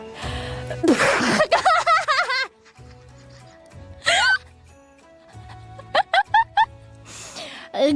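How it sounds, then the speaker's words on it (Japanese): A woman lets out one hard, forceful sneeze near the start after tickling her nose with a twisted paper strip, followed by her talking up close. "ガチめのくしゃみが出てしまいました"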